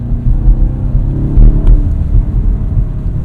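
A 2025 BMW M5 Touring with a hybrid V8 drives on wet roads under light throttle, giving a steady, close low engine rumble with a gentle rise in revs and faint tire hiss throughout.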